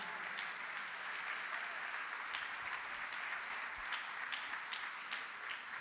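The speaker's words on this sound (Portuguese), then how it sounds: "Dê um forte aplauso ao Senhor." Congregation applauding during a church sermon: a steady, dense wash of clapping from many hands, sustained throughout at moderate loudness with no speech over it.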